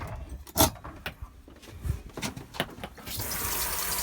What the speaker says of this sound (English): I'll just demonstrate the shower.